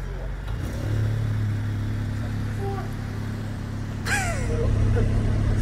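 An Audi S3 engine rumbles at idle with its exhaust valves open, a deep, throaty exhaust note, a brief rev near the end, and some faint talk in the background.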